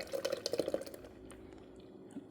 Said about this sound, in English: So to make my ice cream, I'm just going to pour this mixture in here.